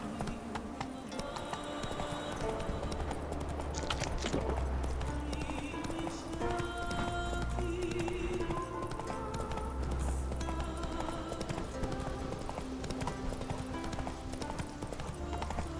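Hooves of Roach, a horse in The Witcher 3 video game, clip-clopping at a steady running rhythm beneath continuous game music and ambience, fairly loud throughout.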